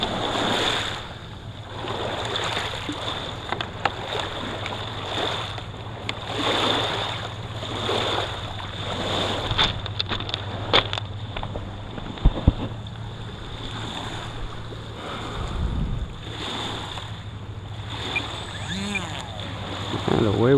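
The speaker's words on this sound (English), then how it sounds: "Take it to the river, the Fox River." Water rushing along the Fox River with broadband wash and wind buffeting the microphone, steady and close, with a low engine-like hum underneath and occasional thumps.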